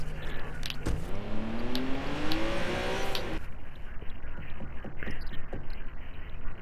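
A car engine in the video game Watch Dogs 2 revs up loudly and close, its pitch climbing steadily for about three seconds before cutting off, leaving a lower engine rumble with scattered clicks.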